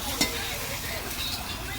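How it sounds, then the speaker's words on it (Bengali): Potatoes fry in a pan with a steady, close sizzle, and a brief knock of stirring comes near the start. "চলো, এখানে মাছ ভাজা চলছে, মাছ ভাজা নয় বেগুন ভাজা, সরি আলু ভাজা,"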